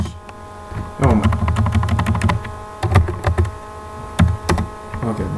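Someone types on a computer keyboard in bursts of quick, close clicking and clacking, with short pauses between runs over a faint electrical hum.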